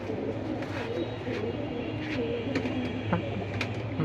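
Pigeons at a pigeon sale in Bangladesh, cooing softly in low repeated murmurs over steady background hum, fairly faint and continuous.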